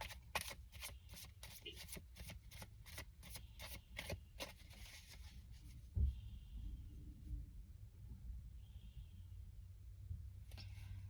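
Tarot cards being shuffled by hand, a rapid run of crisp riffling flicks for the first few seconds, then a quiet pause and a single soft bump before faint handling resumes.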